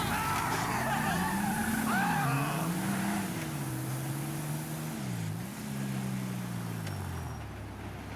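Heavy truck engine in GTA 5 Online, a steady droning rumble that rises and dips as the vehicle drives, loud and continuous with faint game sounds above it.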